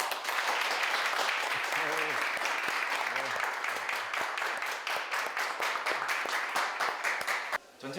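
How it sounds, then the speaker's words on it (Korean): An audience gives sustained applause welcoming a professor, Kim Jong-du, at a Korean military-academy department event; dense, steady clapping fills the room throughout, with a few voices rising briefly beneath it and a sudden drop at the end. "김종두 교수님을 큰 박수로 한번 모시겠습니다"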